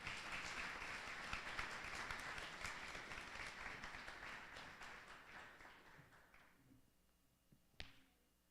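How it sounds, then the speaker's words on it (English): An audience at a postgraduate reception gives Dr. Williams a round of applause, dense clapping that fades out over several seconds, ending with a single sharp knock near the close. "Dr. Williams, give him a round of applause,"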